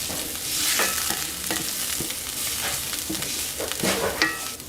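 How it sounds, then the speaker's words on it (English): Garlic sautéing in a hot pan for a breakfast burrito, a steady close sizzle and crackle with a few stirring scrapes and clinks, no voices. "So we'll let that garlic saute up for a minute"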